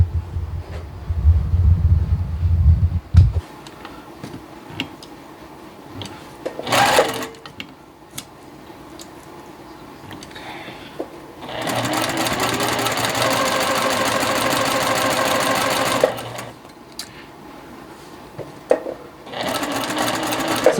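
A sewing machine stitches quilt fabric in a star-pattern block, running in a loud steady burst for several seconds between quieter pauses and short mechanical clicks.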